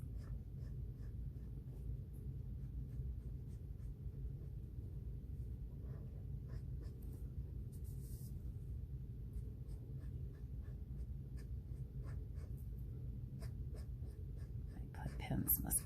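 Faint scratchy strokes of a pen on paper come and go over a low steady rumble, quiet and close.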